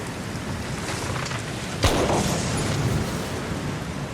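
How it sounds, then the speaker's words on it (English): A single gunshot from a wet muzzle-loading gun in the Australian outback booms once sharply, fairly close, amid steady rain-like background noise that continues before and after. "I heard a gunshot that was pretty close."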